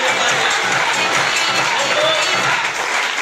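Audience at a motivational speech breaks into applause and cheering, a loud, dense, continuous roar of clapping mixed with crowd voices, filling the whole stretch without pause.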